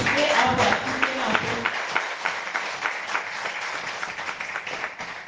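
A church congregation breaks into sustained applause and cheering during a French sermon, dense clapping that starts loud and tapers slightly, with a few voices mixed in.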